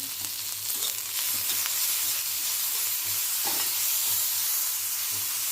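Chillies, garlic and tomato roast in a pan with a steady, close sizzling hiss that stays even throughout, with a faint low hum underneath.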